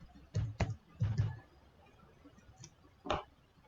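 Typing code on a computer keyboard, a few scattered key clicks and short bursts of keystrokes, close and fairly quiet with no talk.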